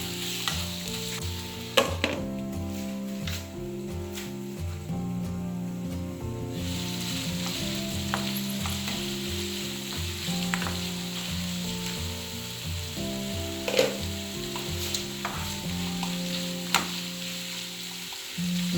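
Oil sizzles steadily in a pan while being stirred, with occasional scraping clinks of a utensil, as the base for Sri Lankan stir-fried dried stingray is tempered; a constant close frying hiss, with no speech.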